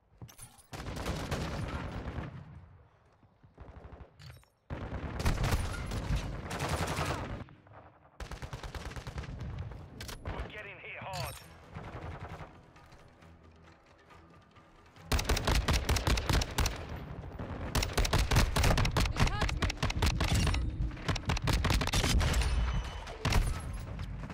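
Dense video-game gunfire in Modern Warfare 2 on the Shoothouse map, with rapid automatic bursts from an STB556 rifle and other weapons, loud and close, in several stretches with brief gaps.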